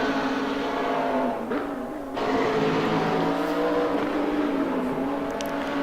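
GT3 race cars, including a black Lamborghini, roar in a close final-lap battle at Mugello in a racing game, with a steady engine drone and a brief dip as one car passes.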